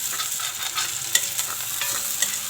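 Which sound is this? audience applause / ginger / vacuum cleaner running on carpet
ginger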